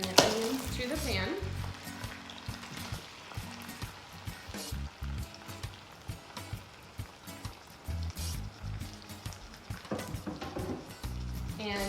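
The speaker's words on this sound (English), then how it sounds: "Now that I have a nice hot olive oil, I'm gonna add the green peppers and the onions to the pan." Green peppers and onions hit hot olive oil in a pan for a Cuban sofrito, giving a steady close crackling sizzle with scattered stirring clatter throughout.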